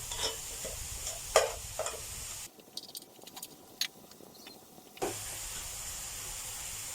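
Brown rice mixed with riceberry rice stir-fried in a hot pan, with scraping stirs and a soft sizzle that drop briefly to a quieter hiss midway before the pan noise returns.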